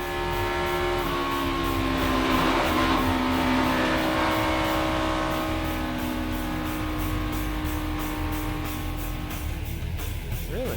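Kurt Busch's NASCAR Cup Series race car running under caution at Daytona, heard from onboard as a steady, loud engine drone with sustained harmonic tones and a constant wind and road roar for its whole length.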